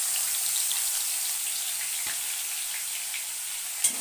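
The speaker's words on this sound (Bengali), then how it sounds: "তেলটা গরম হয়ে গেছে, এবার এটাকে দিয়ে দিই।" Boiled eggs fry in hot oil, giving a continuous, even sizzle at close range, with a single brief knock near the end.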